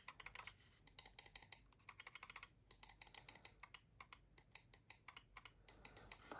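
Crisp, fast clicking from a gaming mouse's buttons, pressed in quick irregular bursts, close up and fairly quiet, with no voices.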